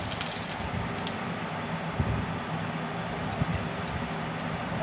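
Jute leaf fritters coated in rice flour sizzle steadily in hot oil, a dense even crackle with a few soft pops as they are turned, close and fairly quiet.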